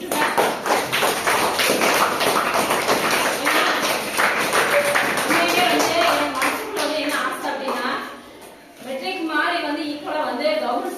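Students at a school applaud the handwriting prize winners with dense, sustained clapping, a brief lull, then renewed applause, while a voice talks over it.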